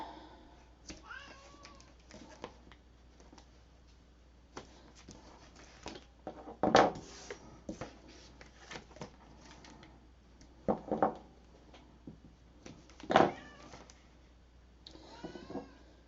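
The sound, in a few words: cat meowing for food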